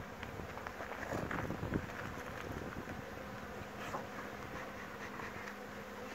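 Honey bees hum at a six-frame beehive in Attica, a soft steady buzz fairly close by, with a few brief louder passes as bees fly near.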